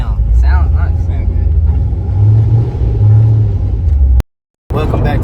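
A supercharged Chevrolet Corvette C6 engine with a ProCharger rumbles low and revs up under people talking, then cuts out briefly before the talking and engine noise resume.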